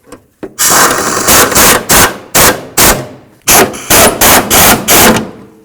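Battery tray bolts on a 1994-2004 Chevy S-10 being run in with a loud impact or ratchet tool, rapid rattling bursts in repeated short runs separated by brief pauses.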